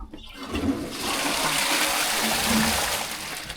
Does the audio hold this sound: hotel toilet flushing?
yes